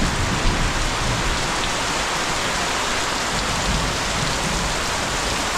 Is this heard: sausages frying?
no